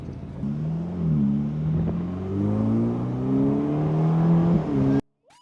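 A Ferrari switched into sports mode accelerates hard, its engine note climbing through rising revs with a gear change midway, loud and close, before cutting off abruptly near the end.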